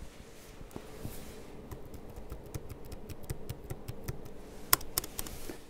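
A Lenovo Yoga C930 Glass laptop keyboard is typed on quietly, producing soft, rapid, irregular key clicks with a slightly louder spacebar tap near the end, close up in a quiet room.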